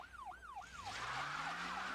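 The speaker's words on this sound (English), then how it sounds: "I put the overhead lights on, the siren, and they just paid no attention to it." Police car siren wailing loudly during a pursuit, a rising and falling tone sweeping repeatedly over a vehicle's engine, close and continuous for the whole moment.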